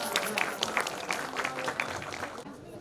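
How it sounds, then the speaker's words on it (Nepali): An audience at a Tihar Deusi Bhailo community event claps to welcome a singer, a brief patter of applause from a modest crowd, with scattered voices mixed in. "कृपया जोरदार तालीले उहाँलाई स्वागत गरौँ"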